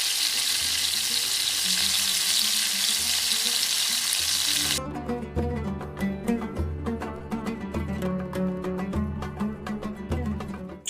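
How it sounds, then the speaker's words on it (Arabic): Ghee and oil sizzle loudly in a pan for a chicken fatteh topping: a dense, steady frying hiss at first, then a busier crackle with stirring scrapes. "هلا اجينا النهاية الطشة. أنا حطيت هون معلقتين سمنة ومعلقة زيت."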